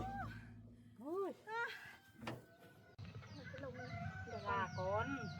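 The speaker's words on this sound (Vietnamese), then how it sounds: "Gà con." Chicks cheep in quick runs of high, arching peeps, close and fairly clear, with people talking nearby and low background noise.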